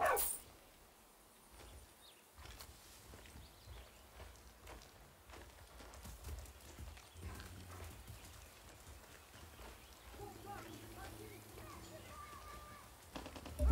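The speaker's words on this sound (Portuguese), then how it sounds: "Uma cachorra pegando as coisas pra gente" A dog companion in the video game Far Cry 6 barks and whimpers faintly beneath game ambience and footstep-like clatter, while someone talks over the scene.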